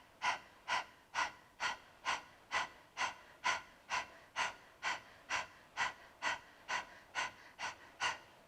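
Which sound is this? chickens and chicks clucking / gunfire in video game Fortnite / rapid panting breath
rapid panting breath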